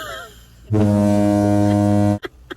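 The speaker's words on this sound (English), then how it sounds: "That foghorn was representing some choice words" A single loud, deep foghorn blast used as a sound effect to cover swearing holds for about one and a half seconds, then cuts off abruptly, followed by brief faint noises.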